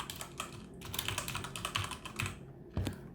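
Someone types on a computer keyboard while entering days of the week into a spreadsheet column, producing a steady run of close, crisp key clicks with a few louder taps, no talking.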